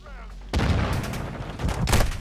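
Gunfire from Call of Duty Modern Warfare 2 bursts in loud and dense after a quiet half-second, a sustained volley of shots with a sharp surge near the end.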